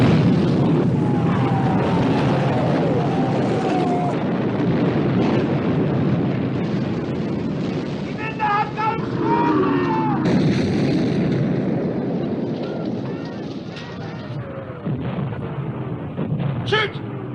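Naval guns fire and shells explode in a sea battle with the Bismarck, heavy booms and rumbling blasts rolling through a dense, continuous roar of combat, with voices calling out over it.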